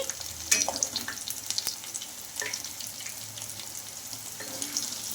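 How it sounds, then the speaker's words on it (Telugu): Poha snacks coated in cornflour fry in hot oil with a steady close sizzle and crackle, a few louder spits breaking through near the start. "ఇలా ఒకసారి కార్న్ఫ్లోర్లో డిప్ చేసుకొని అటుకుల్లో ఒకసారి డిప్ చేసుకొని ఇలా ఆయిల్ అయితే వేసుకోవాలి"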